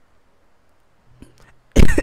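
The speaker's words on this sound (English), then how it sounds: "Sorry, I coughed." A single sharp, loud cough bursts out close to the microphone near the end, following quiet room tone and a faint rustle.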